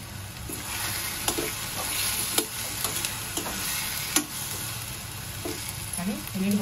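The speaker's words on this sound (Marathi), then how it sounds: "इथे 5 मिनिटं झाले बघा, शेंगा पंपकिन छान परतून झालं" Beans and pumpkin sauté in a pan, a steady low sizzle broken by occasional sharp clinks and scrapes of a spatula stirring; no one speaks.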